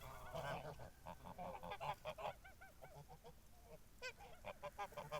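Geese honking repeatedly at close range on a foggy pasture, a flurry of overlapping nasal calls with short gaps, another burst of honks near the end.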